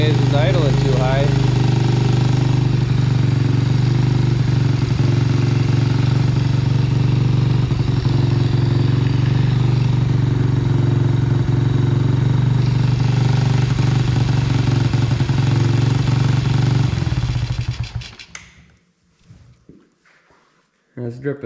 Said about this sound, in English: Seems to run okay, it's just idling too high.